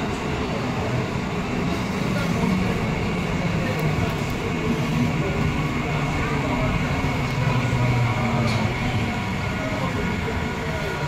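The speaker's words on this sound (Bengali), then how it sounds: "আপে ওটা ট্রেন ঢুকে গেল" A train pulls into a railway station with a continuous loud rumble and rolling rail noise throughout, and people talk over it.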